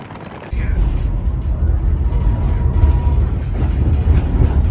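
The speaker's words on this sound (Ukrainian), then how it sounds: "А ми йдемо на трамвайчик." A loud, steady rumble of a tram rolling along rails in Odesa, with rattling and clanking mechanical noise throughout.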